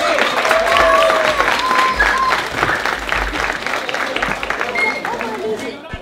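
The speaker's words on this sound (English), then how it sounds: "So give yourself a round of applause." A room full of attendees at a Black Market and Film Festival event applauding themselves, a loud, sustained burst of clapping with cheers and crowd voices mixed in, fading slightly toward the end.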